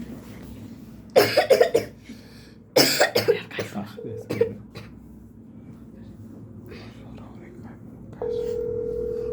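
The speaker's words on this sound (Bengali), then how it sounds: "কাশতে আছে শব্দ করতে আছে" A burst of harsh coughs, then another fit of several coughs, fairly close, followed by quiet room noise and a faint electronic tone.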